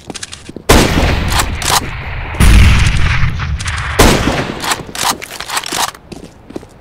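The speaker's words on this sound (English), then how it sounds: "Grenade." Gunfire and a grenade blast in the video game CS:GO, loud bursts of shots followed by heavy booming impacts and rattling, with no talking.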